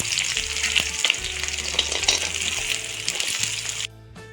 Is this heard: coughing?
no